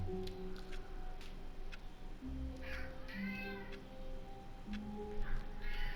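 A house cat meows repeatedly indoors, several drawn-out, wavering calls close by, some rising and falling, over a low background hum with faint ticking.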